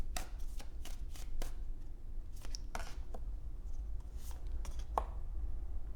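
Tarot cards drawn and shuffled from a deck, a run of quick, close papery flicks and snaps in uneven rhythm over a low background hum.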